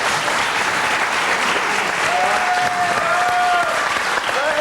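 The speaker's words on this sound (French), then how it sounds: "On va l'applaudir." A television studio audience at a 1995 French talk show breaks into loud, sustained clapping, a dense, even wash of applause that fills the whole stretch.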